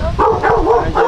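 Dog barking close by, a quick run of three or four loud, sharp barks in an uneven rhythm, with no talking.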